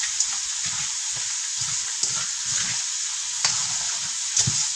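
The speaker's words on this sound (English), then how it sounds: "You're going to mix this really, really, really well." Green bean casserole with bacon and cheddar cheese being stirred in a pan, with a steady sizzling hiss throughout and a few soft scraping strokes from the spoon, close and moderately loud.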